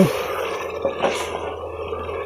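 A little water poured into a pan of potato karahi cooking with fried masala in a village kitchen, giving soft splashing and dripping under steady sizzling, moderately close, with no talking.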